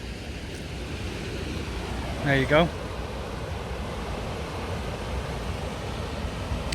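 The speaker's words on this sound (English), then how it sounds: "you can probably hear the water running." Water runs at the edge of Lydney Docks, heard as a steady broadband rush that holds evenly throughout, with someone briefly speaking over it midway.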